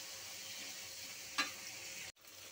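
Spice paste of ground turmeric and chili frying in a pan for a small tengra fish curry, giving a soft continuous sizzle with a brief stir scrape partway through, then a sudden short dropout.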